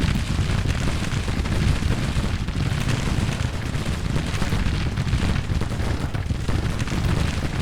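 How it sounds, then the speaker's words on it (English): Springfield musket volleys roll on in Grand Tactician: The Civil War, a loud, dense crackle of massed gunfire and booms merging into a continuous battle roar with no talk. "17th Pennsylvania only has the Springfield musket and they are firing on mediocre range"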